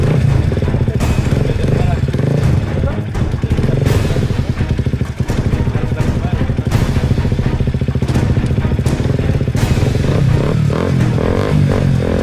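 Motorcycle engine revving close by, a loud rough roar with clattering bursts that rises and falls repeatedly, with people talking over it.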